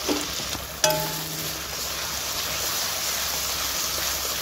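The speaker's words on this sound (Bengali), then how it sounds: "রসুনটা ভালো করে ভেজে নিচ্ছে" Garlic sizzles in hot oil in a pan with onions while mutton curry is cooked, a steady loud frying hiss running throughout after a brief clatter near the start.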